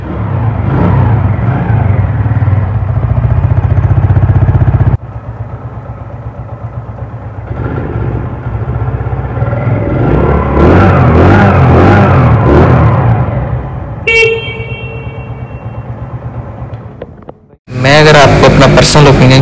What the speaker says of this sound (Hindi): तो बाइक को स्टार्ट करके दिखाते हैं और आपको इसका साउंड भी सुनवाते हैं।